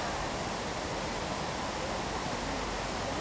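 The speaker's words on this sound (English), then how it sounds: "And the soothing sounds of the water really adds an element of peace when you walk around this beautifully built park" Water pours steadily down the man-made waterfall at the World Trade Center Memorial in New York, a continuous broad rushing hiss heard up close with no talking.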